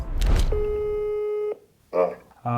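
A telephone tone sounds during a call to a seller about a BMW X1: one long steady tone held for about a second, then a short silence, then a voice answers. The tone repeats at the end.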